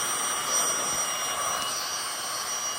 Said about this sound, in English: That's how I pump up my pad.